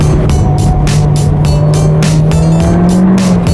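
A front-wheel-drive MINI John Cooper Works pushed hard through corners, its engine roaring loud and steady with a rising drone and tire squeal, up close.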